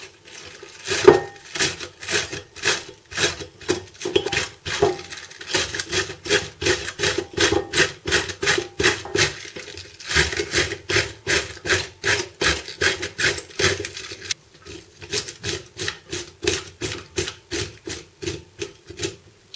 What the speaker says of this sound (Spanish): usaremos esta herramienta que se llama mandolina para cortar la col en